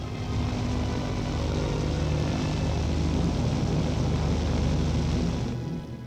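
Beagle 206 twin-engine business aircraft flying, a steady loud propeller drone with a continuous engine hum held at constant strength before easing slightly at the end, no voices.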